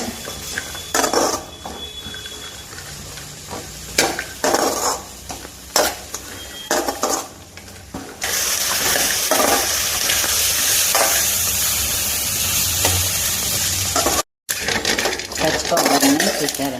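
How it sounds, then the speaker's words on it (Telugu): Fresh coconut roasts in a pan on the stove, stirred with scrapes and clinks against the metal over a steady dry sizzle that grows denser and louder midway, close and alone. "స్టవ్ వెలిగించుకుని బాండి పెట్టుకుని మనం కొబ్బరి వేయించుకుందామండి"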